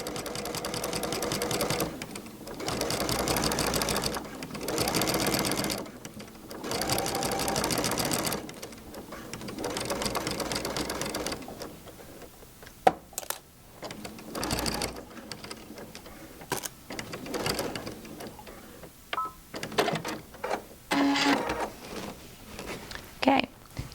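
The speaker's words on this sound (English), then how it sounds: "use a walking foot and stitch" A sewing machine fitted with a walking foot stitches quilt rows together in rapid whirring bursts of several seconds each, separated by short pauses, then shorter stop-start runs; close and fairly loud, with no talking over it.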